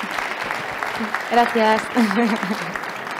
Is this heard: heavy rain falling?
no